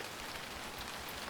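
Light, steady rain patters evenly on a surface, a soft, close hiss of drops with no other sounds.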